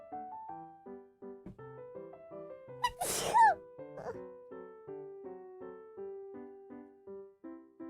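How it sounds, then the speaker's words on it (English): A single sharp human sneeze bursts out loud and close amid a steady run of soft, rhythmic musical game tones, with a smaller sound trailing just after. "Oh, I feel a sneeze coming."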